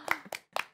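A single person on a golf driving range claps three times after a drive, close and fairly quiet, the claps evenly spaced.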